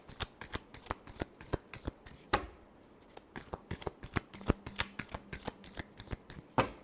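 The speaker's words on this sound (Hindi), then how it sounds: "Last shuffle." Tarot cards being shuffled by hand, a fast run of crisp papery riffles and slaps in steady rhythm, close and fairly quiet with no talking.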